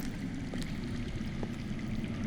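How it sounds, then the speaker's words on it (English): Steady underground water flows and trickles in a continuous low wash with a constant hiss, broken by faint drips or small splashes, alone and without talk. "That's water. I hear water. From underground."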